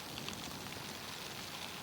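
Rain falling during a motorcycle ride in Singapore, a steady close hiss with faint scattered drop patter and no speech.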